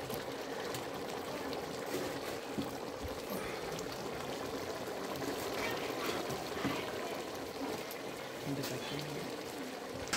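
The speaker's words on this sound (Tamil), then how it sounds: "2 லிட்டர் ஊற்றிடலாம்." Water pours in a steady, continuous rush into a large pot of 1 kg mutton biryani as the rice is set to cook on dum, a close, even hiss that holds without a break.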